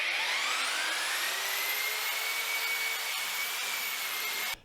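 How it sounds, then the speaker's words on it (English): A power mixer whirs steadily at slow first gear, stirring X11W tile adhesive in a bucket. It is a loud, close, continuous motor whine with rising tonal harmonics, which stops abruptly at the end, and no one speaks. "Mixer set to the slower first gear."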